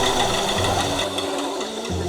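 Faulty motor of a Parkside PBS 350 B2 bandsaw starting up: a loud, steady mechanical drone with a wavering low hum that drops out and returns, close, no talking.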